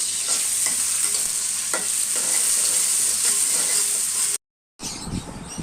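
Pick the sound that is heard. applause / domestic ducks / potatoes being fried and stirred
potatoes being fried and stirred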